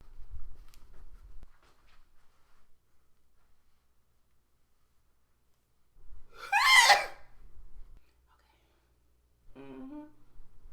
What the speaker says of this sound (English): Sneezing.